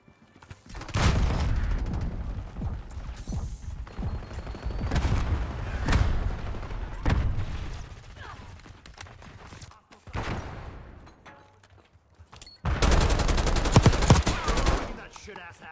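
Video game gunfire in repeated loud bursts and single sharp shots, with gaps of quieter ambience and a heavy final volley of rapid fire.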